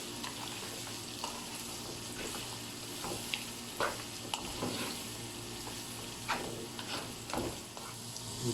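Mutton frying with ginger garlic paste in a karahi, a steady close sizzle with occasional scraping stirs throughout and no talking.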